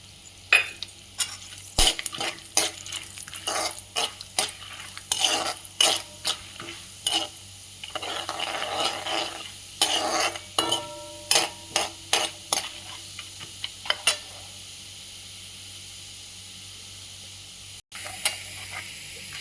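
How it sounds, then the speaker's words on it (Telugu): Peanuts crackle and pop while frying in a pan for attukula mixture, scattered sharp snaps and clicks over a soft sizzle, some bursts dense, others sparse, close up with no talk. "ఇలా పల్లీలు కొంచెం చిటిపటలాడిన తర్వాత పుట్నాలు కూడా వేసుకోవాలి"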